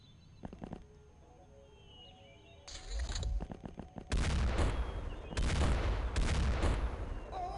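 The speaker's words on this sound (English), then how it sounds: "That was a nice reaction fire." Reaction gunfire in the video game Xpiratez: first a few sparse clicks, then bursts of loud, rapid shots that build into dense, repeated volleys.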